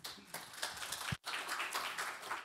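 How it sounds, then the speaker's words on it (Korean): Audience applause welcoming the president of a small and venture business policy society to the podium at a symposium, a steady wash of clapping from a crowd with a brief gap in the middle. "큰 박수로 맞이해 주시면 감사하겠습니다."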